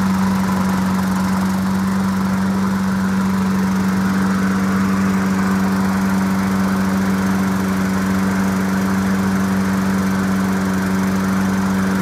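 A salvaged lawn mower engine runs steadily at idle, a constant droning hum with a slight shift in tone partway through, close by and with no voices.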